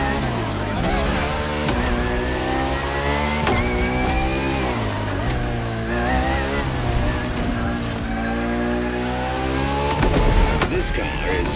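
A Ferrari FXX K, the track-only LaFerrari-based supercar, revs hard through repeated gear shifts during a lap in the racing game The Crew Motorfest, its loud engine note climbing and dropping steadily under a narrator's voice.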